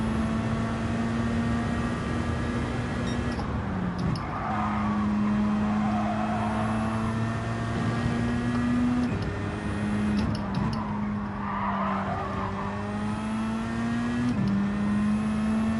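Racing car engines in the Gran Turismo 7 video game drone steadily through the last lap, with sustained tonal whines that rise and dip as gears shift, close and loud without pause.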